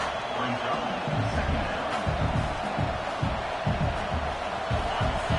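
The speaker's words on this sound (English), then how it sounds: "This crowd bringing the energy and noise early." A big stadium crowd at a football game roaring steadily in a large open space, a continuous wash of cheering with bursts of louder noise throughout.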